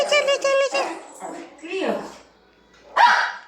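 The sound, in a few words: dog whimpering and yipping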